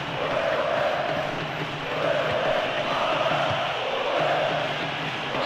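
A stadium crowd in the PES 2013 football video game roars and cheers in a steady, swelling wash of massed voices, moderately loud and continuous across the whole stretch.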